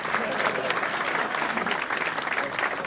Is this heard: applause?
yes